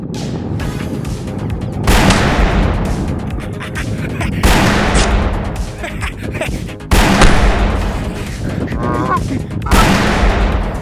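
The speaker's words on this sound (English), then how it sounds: "Enraged, James starts firing his imaginary pistol at anything that comes his way." Rapid gunfire bursts from a comedy action short film, loud blasts and booms that come in several waves with rattling echoes, and short gaps between them.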